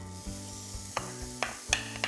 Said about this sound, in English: I'm going to start by cooking some carrots and onion.